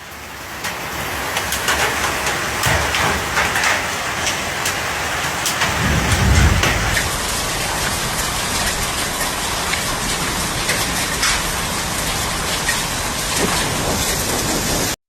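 A severe storm in southeast Queensland drives loud, dense heavy rain and hail onto surfaces, a constant roaring patter with sharp impacts and a low rumble partway through.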